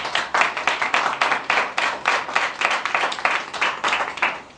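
An audience claps steadily in rapid, even bursts that carry on for several seconds at moderate loudness, with no speech over the applause.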